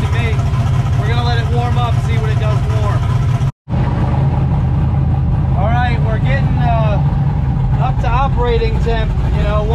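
A Chevrolet Camaro engine idles as it warms up, a loud steady low rumble running throughout, briefly cutting out once near the middle, with people talking over it.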